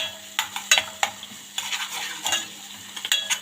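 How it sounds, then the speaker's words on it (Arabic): Garlic frying in a large spoonful of butter in a pan, a soft crackling sizzle punctuated by sharp metallic clinks of a spoon stirring against the pan. "حطي معلقة زبدة كبيرة هنا نزيد بيها بالثوم"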